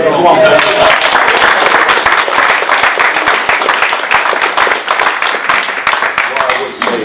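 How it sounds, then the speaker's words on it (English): Boxing press conference attendees applaud a promoter after a fight, loud dense clapping that starts under a speaking voice and carries on in a close, busy patter, tapering slightly toward the end. "you deserve a round of applause for that"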